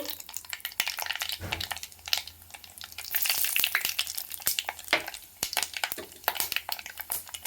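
Mustard seeds fry in hot coconut oil for a Kerala fish curry, crackling and popping in quick irregular bursts over a soft sizzle, with scraping stirs in the pan; no voices.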